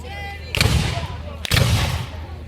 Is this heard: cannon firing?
yes